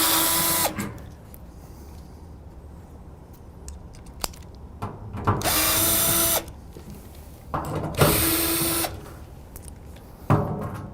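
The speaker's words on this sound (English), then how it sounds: "what I'm going to use is a T30 to remove the fasteners" Fasteners are removed from a Rittal TS8 enclosure side panel with a T30 Torx power driver, several short whirring bursts of a few seconds each, separated by quiet gaps and clicks, close by with no speech.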